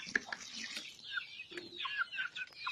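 Organic farm chickens cluck and chirp softly while being fed, a cluster of short, faint calls from several birds close by.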